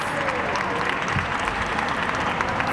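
A crowd claps steadily in a short burst of applause, dense and even throughout.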